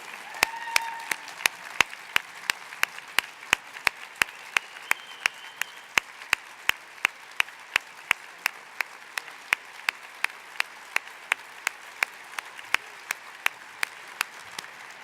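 Sustained applause fills the hall at the 2019 Mayor's Arts Awards, a broad even roar of many hands clapping with crisp single claps punctuating it close by, continuing without pause.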